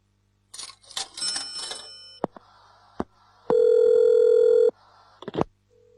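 Handset clatter and a few button beeps lead into a steady telephone dial tone held for about a second, then more clicks and a brief tone at the end, close and clear.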